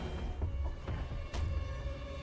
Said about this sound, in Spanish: Eso es un zombie que como que te aturde.